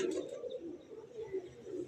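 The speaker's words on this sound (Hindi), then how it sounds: "आसिफ भाई वाले कबूतर हैं, वो भी छोड़े हैं" Pigeons coo in a low, soft, continuous burble with a steady background hush, faint and unaccompanied by talk.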